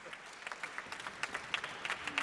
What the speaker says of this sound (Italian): Facciamo ancora un applauso a Giampaolo